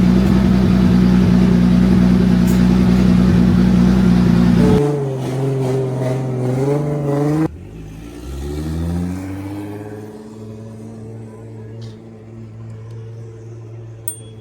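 Nissan S14 drift car engine revving hard after a clutch kick uphill, a loud roar that cuts off abruptly, followed by fading rising whines and a distant drone of engine and crowd.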